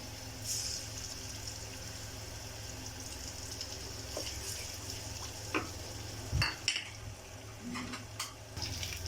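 Ginger garlic paste fries in hot oil in a wok, giving a quiet, steady sizzle with faint scraping and stirring clicks throughout, with no talking.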